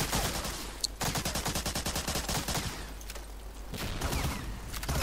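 Gunfire in Medal of Honor: Allied Assault multiplayer, with rapid automatic bursts rattling steadily for several seconds, a short pause, and then more shots, all loud and close with no talking.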